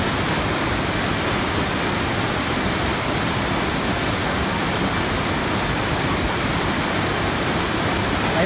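Strong water flow churns in a fish tank at a fish shop, a loud, steady rushing wash with no breaks from start to finish.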